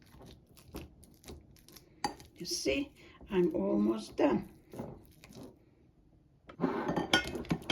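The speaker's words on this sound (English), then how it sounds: "it's so easy to smash bananas with the fork" A metal fork clinks and scrapes against a bowl while mashing bananas for a banana cake, with intermittent tapping and squishing sounds under a woman's nearby speech.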